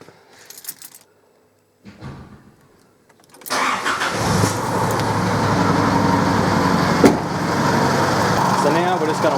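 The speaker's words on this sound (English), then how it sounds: "Just going to start the car." A Chevrolet Colorado's engine is started after a radiator replacement, with a few clicks and a brief crank before the motor catches and settles into a loud, steady close-up idle.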